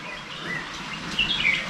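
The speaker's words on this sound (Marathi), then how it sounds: "पक्षी त्याचे छान असे ओरडत आहेत" Faint, high bird calls chirp briefly over a soft outdoor background in an areca nut plantation.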